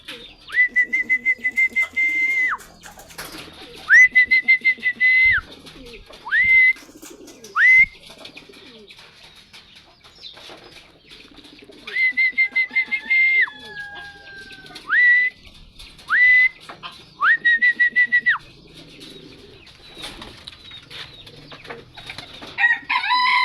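Domestic pigeons in a Filipino loft give repeated bursts of steady tonal calls with a whistling, wingbeat-like quality, in clusters separated by short pauses, fairly close and clear with no talking.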